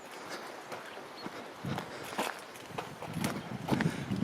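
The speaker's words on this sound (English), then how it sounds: "So I'm going to carry on walking for now." Footsteps walk along the Fisherman's riverside path between Nantmor and Beddgelert in Wales, a steady run of soft, close, irregular treads over an outdoor hum that grows a little louder toward the end.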